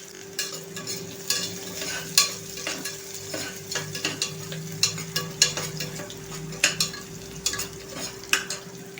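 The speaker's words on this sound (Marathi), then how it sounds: "आता हा छान असा कांदा आपण ना लालसर करून घेऊया।" Chopped onion sautéed in a pan, a continuous low sizzle with frequent spatula scrapes and taps while it is stirred, plus a steady faint hum underneath.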